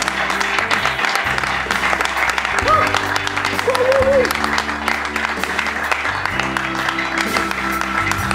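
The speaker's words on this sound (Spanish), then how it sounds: "Fuerte el aplauso." Applause from a studio audience at a television music show, a sustained, fairly loud patter of clapping with sustained instrumental tones and some talk running beneath it.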